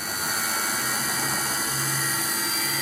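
A grinder on an old tractor workshop setup runs up to a steady, loud, broadband whine and roar with no coolant supplied, continuous and close with no voices.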